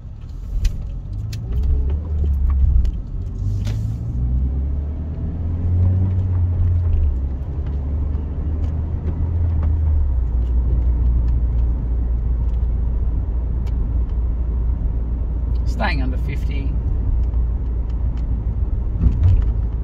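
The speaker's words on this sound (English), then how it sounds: "Car floats forward. Car will roll forward. No need for the handbrake." Car rolling forward at a traffic-light intersection without the handbrake, a steady low engine and road rumble rising slightly as it moves, with a faint clatter near the end.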